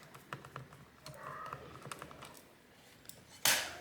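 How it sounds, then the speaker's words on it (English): Small clicks and light scraping from a small Phillips head screwdriver backing screws out of a Dell Precision 5520 laptop, close and quiet, with a louder sharp clack near the end. "Using a small Phillips head screwdriver."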